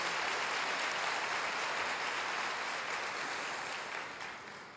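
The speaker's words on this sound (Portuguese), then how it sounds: "aplauda o Senhor" A crowd claps steadily in a dense, sustained wash of applause that tapers slightly toward the end.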